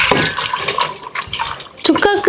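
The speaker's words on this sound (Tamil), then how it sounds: "கொஞ்சம் தண்ணி ஊற்றிக்கிறேன்." Water poured into a cooking pot holding beef with turmeric, ginger-garlic paste and rock salt, short splashing bursts while a person talks over it.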